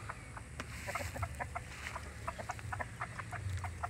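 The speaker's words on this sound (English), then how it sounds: "We gonna let the chicken come out." Chickens pile out of their coop, clucking in a busy, close chorus of short, overlapping calls.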